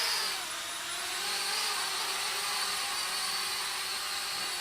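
A small Eachine E56 folding selfie drone's motors whine at high speed, a steady buzzing hum with slight pitch wavers as the throttle rises, close and alone without speech.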